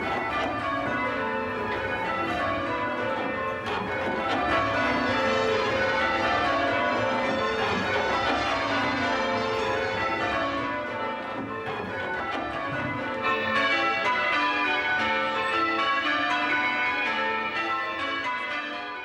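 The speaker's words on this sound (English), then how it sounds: "Let the bells be rung. Let them ring out the praises of God." Church bells on the Isles of Scilly peal continuously in overlapping rounds, dense, steady and fairly loud throughout with no voices.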